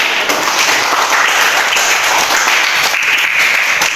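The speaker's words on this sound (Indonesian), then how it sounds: "Luar biasa, tepuk tangan." A classroom audience at a teacher training performance test breaks into sustained, dense applause, loud and close, with many hands clapping at once and no pause.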